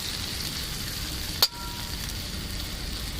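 A tomato-based spice masala sizzles in a pan with Kashmiri chili powder for a vegetarian fennel and pointed gourd dish, giving a steady, even frying hiss broken by one sharp utensil clack.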